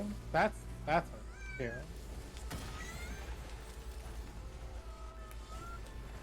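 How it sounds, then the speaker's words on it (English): A female cat in heat meows in the background, with a couple of louder drawn-out cries up front followed by fainter wavering calls, while a person talks over it. "Also, I apologize if you hear a cat in the background."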